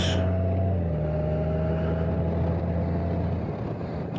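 A steady engine and road drone rumbles close by from inside a vehicle on the ride home from work, holding even and continuous with no voices.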